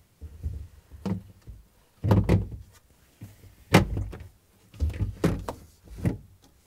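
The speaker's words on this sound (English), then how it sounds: "And now we can close the door." A Samsung refrigerator door being closed after a temperature sensor repair, with several separate thunks and knocks spread through the clip, fairly close and moderately loud in a quiet room.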